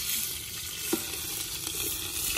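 Onions, 500 grams, hitting hot oil in a pan for biryani and sizzling loudly up close, a dense steady crackle with a few sharper pops and scrapes, no voices.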